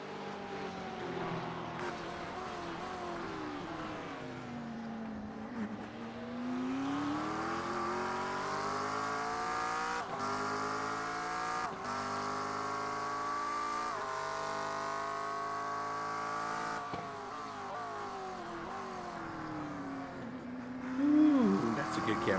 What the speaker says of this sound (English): Javi thought he shook that McLaren